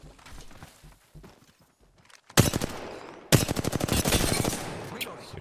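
Gunfire in the game Apex Legends, rapid bursts of automatic fire erupting loud and close after quieter footsteps and shuffling, two sustained volleys in quick succession.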